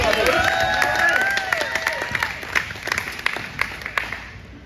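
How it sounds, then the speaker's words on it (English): Applause from an audience at a Tigers end-of-season sports awards ceremony, a dense wash of clapping that starts loud and gradually thins out, with a few cheers and crowd voices mixed in. "Big round of applause for Ace"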